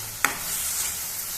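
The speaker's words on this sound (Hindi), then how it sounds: "हमारा टमाटर जो है वो ऐसे उबल रहा है बड़े अच्छे तरीके से" Tomatoes simmer in a pan with a soft continuous bubbling sizzle, close by, and a single sharp clink near the start.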